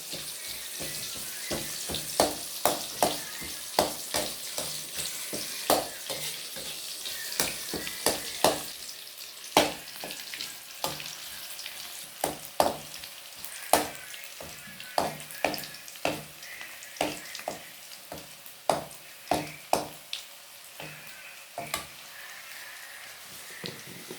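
Onions and chillies fry in a pan for a Kerala uppery, a steady close sizzle broken by frequent sharp pops and spatters, with no one talking.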